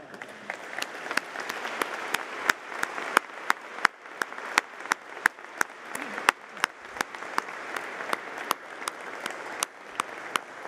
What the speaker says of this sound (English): This is called applause